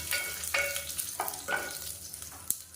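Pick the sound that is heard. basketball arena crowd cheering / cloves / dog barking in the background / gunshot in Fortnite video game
cloves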